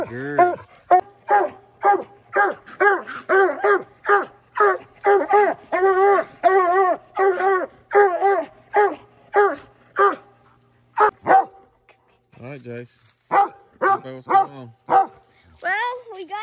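A redtick coonhound pup barks repeatedly on a nighttime coon hunt in the mountains, a rapid run of loud, close barks with a few whimpering yips, while people talk at times.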